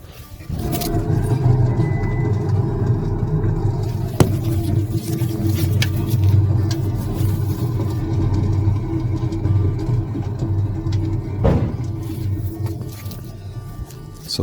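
A worn rear wheel bearing on a 2008 Jeep Patriot gives off a loud, steady droning rumble with a grinding hum. It holds continuously while the car rolls, with a few brief knocks.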